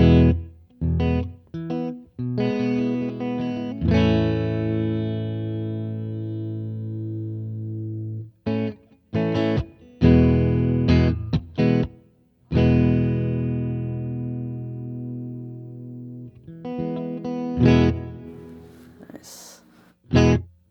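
Electric guitar through a reverb pedal playing sustained chords and short stabs, notes ringing out with a washy tail between gaps of silence.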